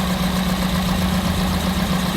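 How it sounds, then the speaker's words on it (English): A Daihatsu Hijet 1.3 EFI 16-valve engine idles roughly with a misfire, giving a steady, close, loud rumble with a continuous low hum and no pauses. "So the engine is running really rough."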